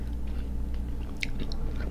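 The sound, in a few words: chewing and biting crunchy homemade pickle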